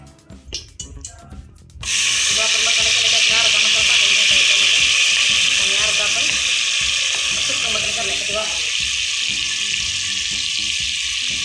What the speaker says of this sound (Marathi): तेल गरम झालं का आपण आता याच्यामध्ये मसाला टाकून घेऊया